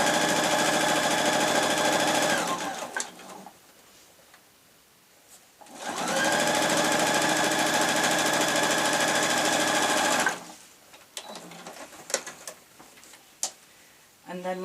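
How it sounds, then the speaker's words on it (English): A sewing machine stitches a fabric tablet case in two long, loud, steady whirring runs separated by a pause, followed by softer handling clicks and taps. "I'm going to sew along that crease mark there"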